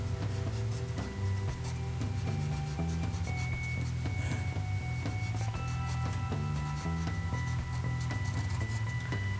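A pencil scratches across paper while sketching the fingers of a hand, producing continuous close, soft scraping strokes in short repeated bursts over a faint tonal background hum.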